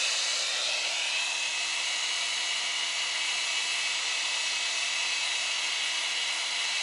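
A high-speed polisher runs steadily, buffing fine scratches out of an S550 Mustang tail lamp lens, a continuous whine with a hissing edge that holds level throughout, close and loud with no talk over it.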